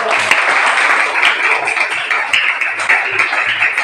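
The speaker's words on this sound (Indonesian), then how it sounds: "Oke, berikan aplaus untuk" An audience applauds after a presentation about caring for the environment, a dense, steady wash of clapping from many hands that carries on throughout.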